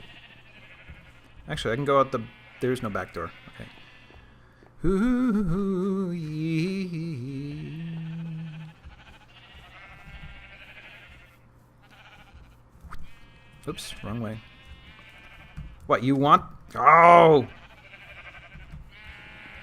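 Minecraft sheep bleat several times in short, wavering cries, some close and loud, scattered among bursts of a player's chatter and in-game clicks.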